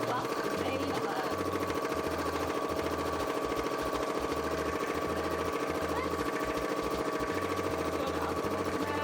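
A sewing machine runs steadily and close up, with a fast, even mechanical chatter and low thumping pulses that pause briefly and resume, continuing throughout.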